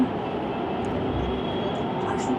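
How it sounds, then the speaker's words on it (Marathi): A metro train pulls into the station with a steady, loud rolling rumble and hiss that fills the whole stretch, while voices talk faintly underneath. "बघता बघता आमची मेट्रो आली"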